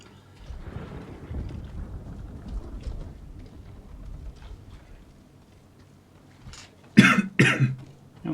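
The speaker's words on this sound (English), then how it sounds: "Still coughing." A man coughs in a brief loud burst of two or three harsh coughs near the end, after a stretch of quiet low rumbling background.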